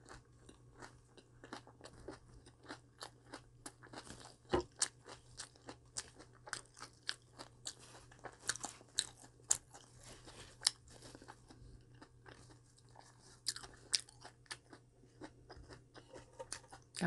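Close, crisp crunching and chewing of steamed cabbage and other vegetables such as perilla leaves, potato, carrot and bell pepper, with irregular bites and soft mouth sounds continuing alone at a quiet level.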